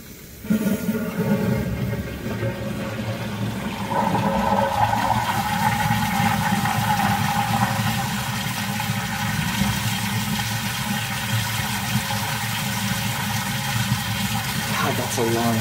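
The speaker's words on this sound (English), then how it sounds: "God, that's a long flush." A wall-hung toilet with a flushometer valve runs a long, sustained flush: a loud, steady rush of water starts abruptly and roars on without letup for about fifteen seconds, close by.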